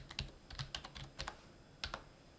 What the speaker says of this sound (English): and I'll type in the word Cheltenham